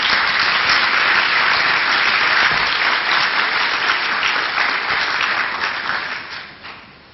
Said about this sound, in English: Could I have a round of applause for them